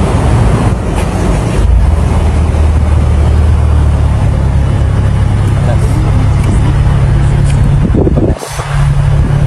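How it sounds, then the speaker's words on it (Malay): A Mercedes-Benz CLA250 idles loudly just after a cold start in dynamic sport mode, a steady low engine drone running throughout, with a brief dip near the end before the hum resumes. "Ni full start keadaan kereta ni dalam state baru start, bunyi dia agak keras sikit."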